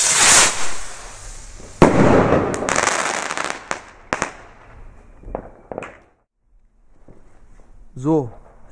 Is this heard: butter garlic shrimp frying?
no